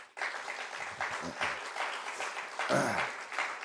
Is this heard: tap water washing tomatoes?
no